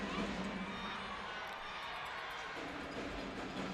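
Crowd noise at a USHL hockey game, a dense, continuous roar of the arena audience with a rise in cheering, heard at a distance under play-by-play commentary.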